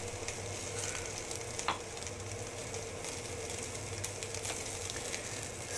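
Marinated beef short ribs sizzle steadily on a hot indoor kitchen grill, a continuous crackling hiss with occasional sharper pops and spits.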